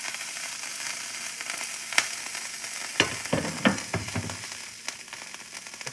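Butter sizzles steadily in a hot pan while a grilled cheese cooks, with scattered sharp pops and crackles over a constant close hiss.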